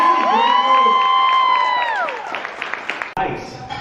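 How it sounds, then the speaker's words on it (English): Wedding guests cheer for a newly married couple, Felicia and Jamal, with shouts, whoops and long whistle-like calls that fade. Scattered voices carry on behind a sharp knock near the end. "And one more time, cheer for Felicia and Jamal."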